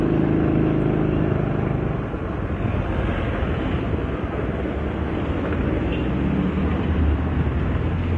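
Traffic noise along a city street on a car-free day, a steady broadband rumble and roar with wind buffeting the microphone throughout, no distinct individual passes standing out.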